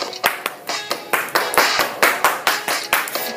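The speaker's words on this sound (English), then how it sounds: "Clap solo." Solo hand clapping in a classroom forms a quick, uneven rhythmic pattern of about a dozen sharp claps, close and clear with no voices over it.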